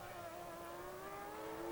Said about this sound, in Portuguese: o motor Mugen Honda que fala bem alto